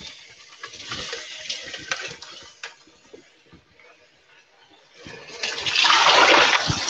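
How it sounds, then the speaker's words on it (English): A jar rinsed under a running tap, with splashing water gushing in bursts at the start and again, louder and fuller, near the end, with quieter trickles and clinks between. "Let me quickly rinse"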